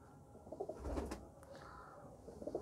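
Soft, low pigeon cooing close by, a few muffled throaty calls with faint rustling around them.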